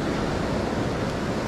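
Ocean waves at high tide on Folly Beach, a loud, continuous wash of surf mixed with wind buffeting the microphone.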